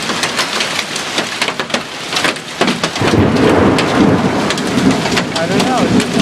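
Heavy thunderstorm in Connecticut with pounding rain and golf-ball-sized hail, loud and close, crackling impacts and rumbling thunder building into a dense, continuous roar.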